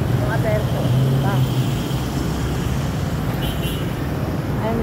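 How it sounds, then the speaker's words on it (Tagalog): Busy street traffic rumbles steadily, with engines and passing vehicles close by and a brief horn-like tone, while a person talks intermittently over the noise. "Ay, masyadong traffic dito,"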